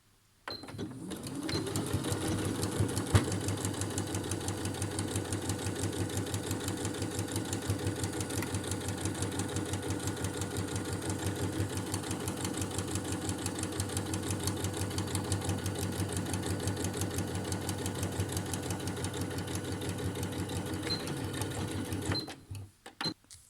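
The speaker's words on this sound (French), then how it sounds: "je vais coudre sur la partie arrondie à 1 cm du bord" Sewing machine stitching the curved edge of a quilted fabric face mask 1 cm from the edge, a steady close mechanical whir running continuously for about twenty seconds before stopping.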